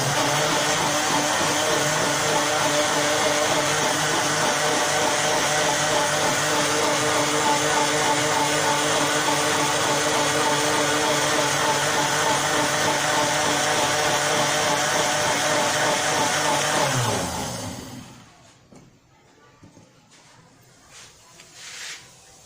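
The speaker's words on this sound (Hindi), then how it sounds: "अभी देखें अच्छा सा ग्राइंड हो रहा है" Mixer grinder whirring loudly as it blends mint leaves into a drink, a steady dense motor roar that stops suddenly, followed by faint handling sounds.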